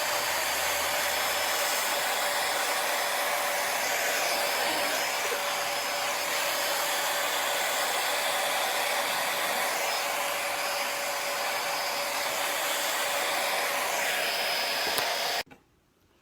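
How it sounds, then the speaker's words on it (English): A hair dryer blows continuously with a loud, steady whooshing hiss, close by, then shuts off abruptly near the end. "Turn on our hairdryer and the same thing."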